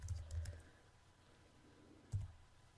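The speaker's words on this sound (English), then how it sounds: "For each point that your opponent has made, you need to type in a comment." A few quiet clicks and taps from typing on a computer keyboard, in short bursts near the start and once more near the end, with quiet room noise between them.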